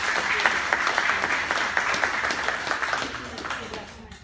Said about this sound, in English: I think we could give her a round of applause for her hard work and accomplishment